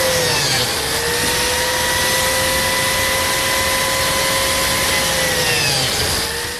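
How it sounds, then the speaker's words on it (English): Biscuit joiner cutting biscuit slots in wood for a miter saw work station: a loud, close, continuous high motor whine with a steady pitch and a slight dip as the spinning blade winds down near the end. "Now let's cut some biscuit slots."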